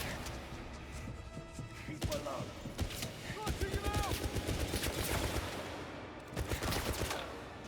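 Gunfire in the video game 007 First Light: rapid bursts of shots crackle in steady, repeated volleys, loud and close over a busy game soundscape, with voices speaking underneath.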